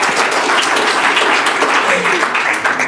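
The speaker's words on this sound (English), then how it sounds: "applause to Gareth," An audience at a final aquaculture research conference applauds a speaker with dense, steady clapping that stays loud and even throughout, with a few voices mixed in.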